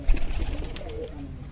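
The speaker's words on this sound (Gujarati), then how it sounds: "આ બધા અમારા ઘરના કબૂતર હે" Domestic golden pigeons of a desi Kathiyawadi breed coo softly in a home flock, low throaty murmurs overlapping close by with some faint rustling and no talk.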